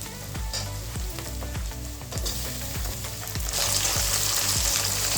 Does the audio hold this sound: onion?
yes